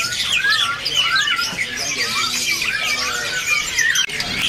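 Caged murai batu (white-rumped shama) songbirds call at a busy bird market kiosk, a loud, continuous tangle of shrill whistles, squeals and chirps overlapping without pause.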